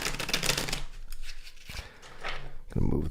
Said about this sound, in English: So let's do a shuffle.